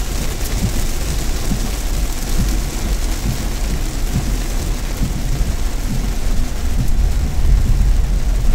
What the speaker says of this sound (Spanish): Está lloviendo. Y aparentemente esta lluvia, por lo menos, debe estar en el oeste prácticamente.